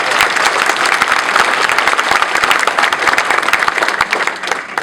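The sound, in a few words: audience applause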